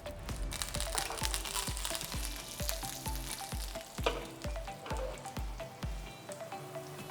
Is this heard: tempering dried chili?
yes